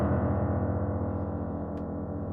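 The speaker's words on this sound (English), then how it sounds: "playing chords on the very lowest notes on the piano" A chord on the lowest notes of a piano rings out as a thick, rumbling, muddy drone that slowly decays, heard alone.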